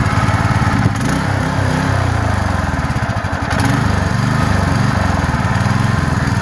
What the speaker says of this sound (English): what's really fascinating about this carburetor is it does respond to different RPM very well